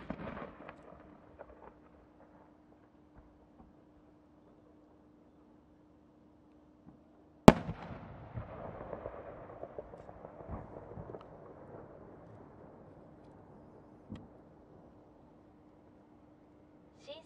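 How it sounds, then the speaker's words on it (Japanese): A triple-changing spangle firework shell with a rising tail bursts in a single sharp, loud boom from Haga Fireworks in Miyagi, set off at Omagari, followed by a long fading crackle and rumble, with quieter pops before and a faint late pop. "上り極道付き三重新変化スパンコール、宮城県芳賀河口、花火作家石村芳恵"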